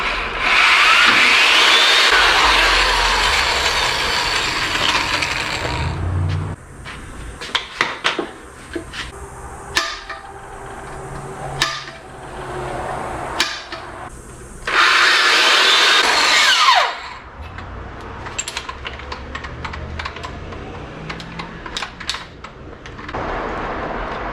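Tools clank and whir while a spring plate is bolted onto a VW Baja Bug during trailing arm work, with bursts of power-tool whirring, metallic knocks and ratcheting in uneven, close bursts and no talk.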